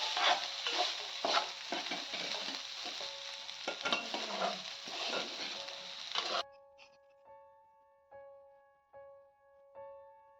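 Lemon rice is stirred in a pan on the stove, a close scraping and sizzling that is steady for several seconds and then drops away sharply, leaving only faint tonal hum.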